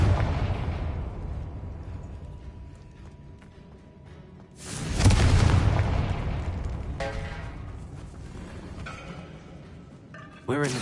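Confringo spell explosion in the game Hogwarts Legacy, a sudden loud fiery burst with a rumbling tail that slowly fades, inside a tomb, followed by smaller pops and crackles while someone talks.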